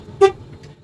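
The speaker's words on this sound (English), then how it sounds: "Checking my city horn" One short, sharp honk from a tractor-trailer's city horn, loud and near, followed by quiet with a faint second blip.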